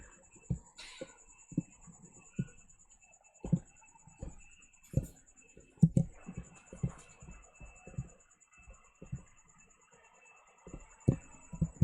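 Code being typed on a computer keyboard, faint and close, with scattered soft key clicks and short quick bursts over a quiet room hum.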